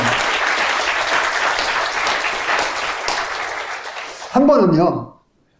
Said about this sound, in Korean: 박수 한번 쳐줘야죠